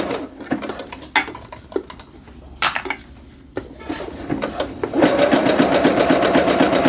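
Scattered handling clicks and knocks come first, then a sewing machine starts up and runs steadily at slow speed, zigzag stitching knit fabric close by.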